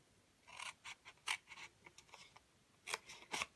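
Scissors cut through papercraft for an Easter treat basket in a string of quick, crisp snips close by, short bursts spaced irregularly with small pauses between them in an otherwise quiet room.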